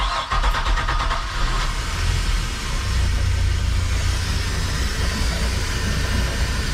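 A boat engine cranks with a chugging starter rhythm, then catches and settles into a loud, steady low rumble that runs on to the end.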